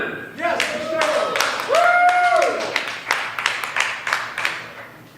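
An open mic crowd at Camp Bar claps and cheers for several seconds, with lively voices whooping over the scattered, fading applause.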